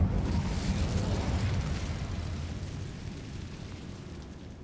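An Incendio fire spell cast in Hogwarts Legacy gives a loud, dense burst of roaring, crackling flame that fills the clip, then slowly tapers over several seconds with no talk.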